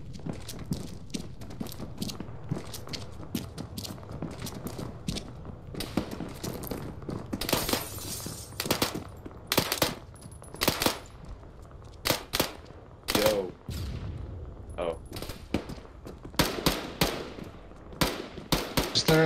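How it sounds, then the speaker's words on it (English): Machine gun fire rattles through a combat scene in Arma, a military game, as an airfield is seized, with sharp single shots and short bursts at varying distances and a few louder close cracks over steady background noise. "Window got cracked, they're shooting at me."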